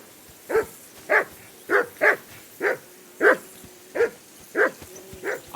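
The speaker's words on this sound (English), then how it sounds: "I assume you can hear that damn dog of yours barking." A dog in the video game Kingdom Come Deliverance 2 barks nine times in an even rhythm, each bark short and clear against a quiet background.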